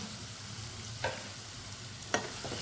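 Onions sauté in a pan for a cauliflower and potato curry, giving a soft, steady sizzle with two brief stirring scrapes, heard faintly and with no one talking.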